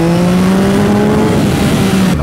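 Yamaha MT09 motorcycle with automatic gearbox, its engine note steady and loud while riding through a roundabout, with one gear change near the end as the pitch drops and then resumes.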